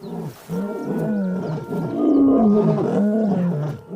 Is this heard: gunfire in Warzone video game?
no